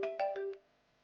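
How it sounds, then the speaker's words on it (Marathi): A phone ringtone plays a short melodic phrase in four quick bursts, then cuts off into near silence; no one speaks over it. "तो फोन आला तुला."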